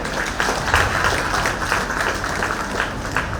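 A church audience at a dedication celebration claps for dancers, producing a dense, even wash of applause that carries at a steady level from start to finish.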